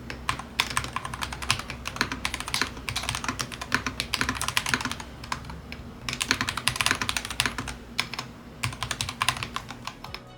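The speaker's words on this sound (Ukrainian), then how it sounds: "давайте послухаємо, як саме звучиться клавіатура" Rapid typing on an Ajazz AK820 MAX magnetic mechanical keyboard fills the clip with dense, even clacking keystrokes in bursts, with a few brief pauses.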